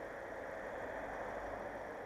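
A Kia Morning car engine runs with a steady, even hum and no changes in pace, close and moderately loud.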